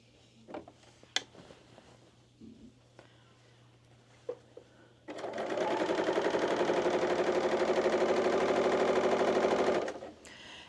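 Sewing machine stitching a curve, a fast rapid-fire rattling hum lasting about five seconds after some quiet handling clicks and taps, then stopping abruptly.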